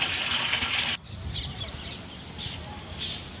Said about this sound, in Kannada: ಬರ್ತಿದ್ದಾವೆ ನೋಡಿ ಗೈಸ್ ನೀರು